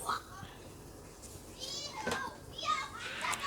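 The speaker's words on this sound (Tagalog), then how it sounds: "May naglaro po sa labas, mga bata po." Children play outside, their shouts and squeals coming faintly from a distance in scattered bursts against a quiet indoor background.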